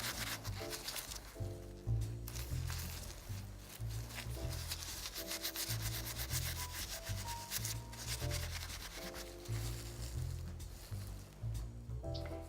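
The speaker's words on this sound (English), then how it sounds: "once you've sanded this with the steel wool until you got the look that you like" Steel wool rubs steadily over a colorized resin piece made with PearlEx powders, a continuous scratchy scrubbing running under louder background music.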